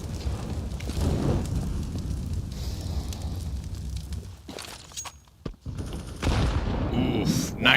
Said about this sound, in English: Oof, nice nade.